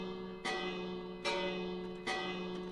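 A Minecraft piston item sorter rings a bell three times at roughly even intervals, each a sharp strike that decays slowly over a steady hum of game background sound.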